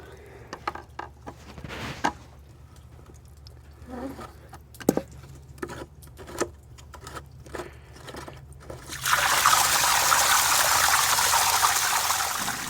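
Water from a Hayward pool cartridge filter drain begins with scattered drips and small clicks, then rushes out in a sudden steady hissing stream for the last few seconds.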